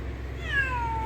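A single short cat meow, rising then sliding down in pitch, fairly faint over a low background hum.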